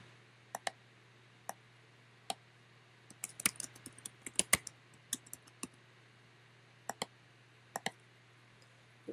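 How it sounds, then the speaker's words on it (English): Typing an address on a computer keyboard produces scattered, crisp key clicks, sparse at first and then a quicker cluster, over a quiet steady hum. "And type in the address here."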